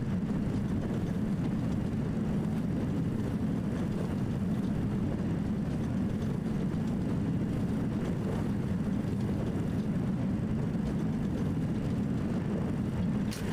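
Steady, loud roar of MD-82 jet engines in reverse thrust during landing rollout in Microsoft Flight Simulator 2020, a constant broadband rumble heavy in the low end and holding level throughout with no voices.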